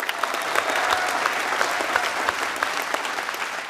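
A studio audience at the Super Minute game show claps in a dense, continuous burst of applause, loud and even throughout with no one speaking.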